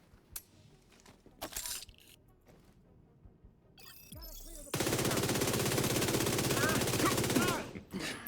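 A deployed turret in a video game opens fire, a dense continuous burst of rapid gunfire lasting several seconds after a quieter stretch of scattered clanks and bumps.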